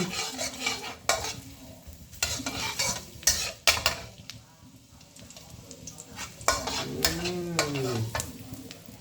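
Garlic stir-fried in a hot wok for rice vermicelli, a steady sizzle with repeated scraping stirs and clanks of the utensil against the pan, close and fairly loud, no talking.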